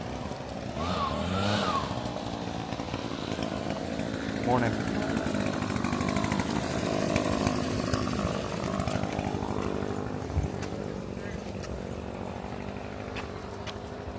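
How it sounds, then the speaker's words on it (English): A gas leaf blower runs outside the All Star Music Resort in the morning, a steady engine drone lasting the whole stretch at moderate distance while a person speaks over it. "Hang on a minute, we got a leaf blower in action."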